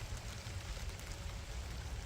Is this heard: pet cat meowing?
no